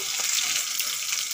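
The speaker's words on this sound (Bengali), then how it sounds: "মাছগুলো ভালো করে ভেজে নিয়েছি, এখন তুলে নেব" Pieces of coral fish fry in hot oil in a pan, giving a brief burst of bright, crackling sizzle at close range with no voices.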